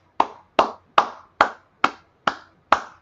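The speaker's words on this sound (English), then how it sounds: "That's actually live clapping, not virtual." Seven sharp live hand claps ring out at an even, unhurried pace, each one crisp and close with a short decay, and nothing else is heard between them.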